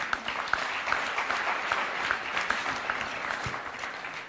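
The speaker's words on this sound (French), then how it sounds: "Sous vos applaudissements, bien sûr" Steady applause from an audience at a public lecture at a foundation fills the hall, a dense continuous patter of clapping that holds evenly throughout.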